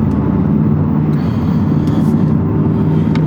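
A Ford Focus ST Track Pack rumbles steadily at close range, its loud exhaust drone constant, with a few faint crackles and pops breaking through near the middle and end.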